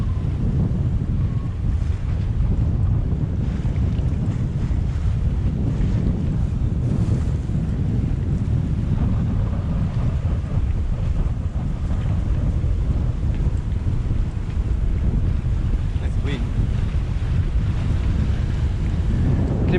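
Strong wind and breaking waves surge around a sailboat under way near a lighthouse point, a steady loud roar of gusts buffeting the microphone with water washing against the hull throughout.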